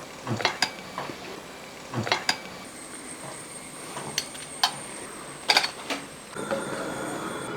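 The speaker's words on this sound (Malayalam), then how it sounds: "അപ്പോൾ ആദ്യത്തെ നമുക്കിങ്ങനെ ഫ്രൈ ചെയ്ത് എടുക്കുകയാണ്" A Kerala evening snack frying in oil, a soft sizzle beneath repeated sharp clinks and scrapes of a utensil against the pan.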